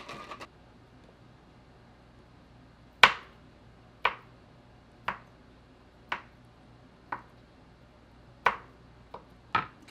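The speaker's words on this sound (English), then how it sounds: "I guess I really couldn't call it Greek without using some Kalamata olives, green olives, and feta cheese. I'm gonna chop these up just a little bit." Knife chopping Kalamata olives, green olives and feta cheese on a board for a Greek salad: about eight sharp, separate chops at an unhurried, slightly uneven pace, close and clear over a quiet room.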